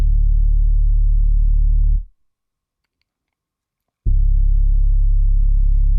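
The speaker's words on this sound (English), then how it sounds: "this is what just the bass sounds like" Deep synth bass one-shot from Trillion sounding chord root notes, a thick, heavy low hum that sustains for two seconds, drops to silence, then returns just as loud for the final two seconds, alone without voices.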